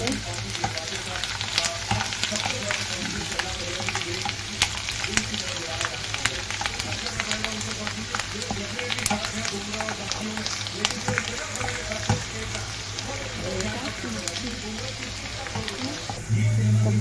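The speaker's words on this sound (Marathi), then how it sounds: "तेल टाकलंय, लालसर होस तर आपण फ्राय करूया" Garlic frying in oil in a pan for garlic paneer cutlets, a steady close sizzle with scattered crackles running throughout, with no talk.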